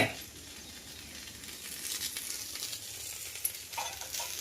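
Appe batter sizzles and fries in an appe pan at breakfast, a steady close hiss with soft crackles and a brief clink, and no talking.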